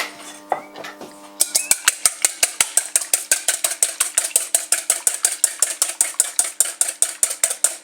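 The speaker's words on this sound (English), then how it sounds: "First of all, beat the egg." A fork or whisk beats an egg in a bowl for a meatball mix, with rapid, even metallic clicks against the dish, close and crisp, repeating steadily after a brief clatter at the start.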